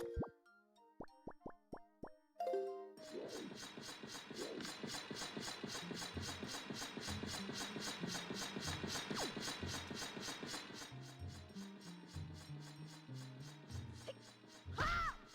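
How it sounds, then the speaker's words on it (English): Floor spikes in Zelda: Wind Waker retract with a long run of rapid, evenly spaced mechanical clicks like a ratchet, loud and steady for about eight seconds after a few tonal plinks, then slowing into lower thuds and closing on a final rising chime. "These are floor spikes returning from 3, 4, 5, 7, 8, and 9."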